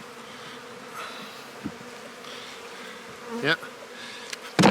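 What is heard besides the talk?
honey bees buzzing in a damp hive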